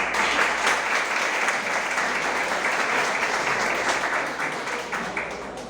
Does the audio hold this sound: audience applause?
yes